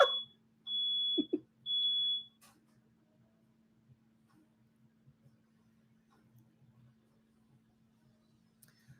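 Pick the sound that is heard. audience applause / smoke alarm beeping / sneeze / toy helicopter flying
smoke alarm beeping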